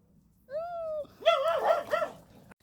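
Dogs in a home vocalise, beginning with a single drawn-out whine, then a cluster of quick, overlapping yips and barks, fairly close and moderately loud, ending with a faint tap.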